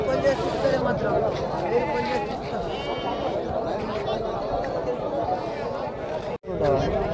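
Goats and sheep bleat at the busy Kaluru livestock market in Nirmal, their wavering cries rising amid steady crowd chatter and someone talking close by.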